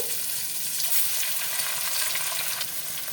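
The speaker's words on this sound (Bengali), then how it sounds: "তেলটা গরম হয়ে গেছে মাছগুলো ভেজে নেব" Fish coated in turmeric and salt fries in hot oil, a dense, loud, continuous sizzle close up with a few faint stirring ticks, no talk.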